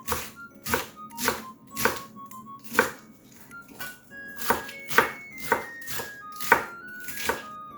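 A knife shreds lettuce on a cutting board while a sweet potato sandwich is being prepared, giving about a dozen crisp, evenly spaced chopping strokes, close and clear, with no talking.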